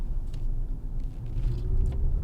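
Maserati Grecale fully electric SUV driving in sport mode, a steady low rumble of road and motor noise that holds throughout, close and continuous, with no talk.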